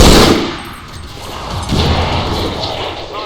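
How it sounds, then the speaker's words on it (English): A grenade detonates in the turn-based strategy game XCOM 2, a loud close blast with crashing, rumbling debris that decays over a few seconds, with no talking. "let's toss a grenade on him to get rid of that Overwatch"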